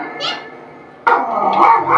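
A dog barks in daytime near a house, giving a few loud, close yelps and barks with a brief pause between bursts.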